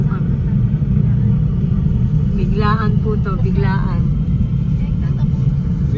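Car engine rumble from inside a moving vehicle on a sudden evening trip to a beach in Subic: a constant low, loud drone throughout, with people talking over it.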